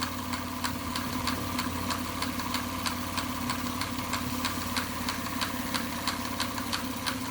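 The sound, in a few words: OKMO model steam engine running a DIY fountain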